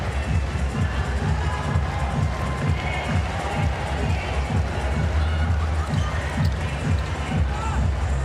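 A large crowd at a night-time Australian Open women's tennis final fills the arena with a steady, close roar of murmur and chatter, with footsteps and light bursts of cheering running throughout.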